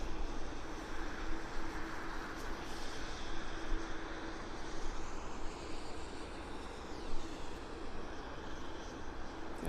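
A heavy jet airliner departs Vancouver International Airport, a loud continuous broadband engine roar that swells slightly and holds steady for nearly ten seconds with no voices over it.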